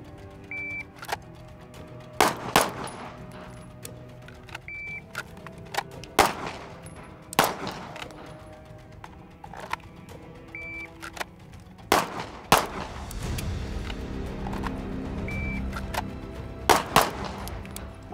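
A Staccato pistol fired during drawing and shooting drills, with about ten sharp, loud single gunshots spaced irregularly across the stretch, some in quick pairs, and quiet pauses between them.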